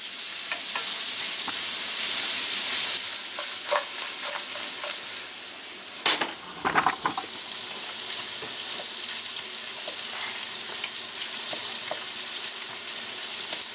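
Butter sizzling in a pan over low heat, a soft continuous crackle and hiss heard close with a few clinks and scrapes midway and no talking.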